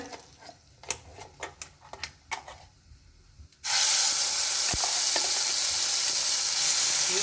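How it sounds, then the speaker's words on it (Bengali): Masala paste dropped into hot butter for a Bengali bhetki kalia bursts into a loud, steady sizzle and frying hiss after a few sharp taps and clicks of a spoon, continuing strongly with no talk. "মাখনটা দিয়ে দিলাম। এবার আমি মশলাটা দিয়ে দেবো,"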